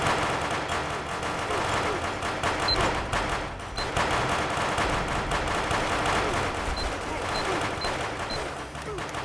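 SMG fire from the GunZ multiplayer game rattles in rapid, continuous bursts at moderate volume throughout, with voices faintly mixed in.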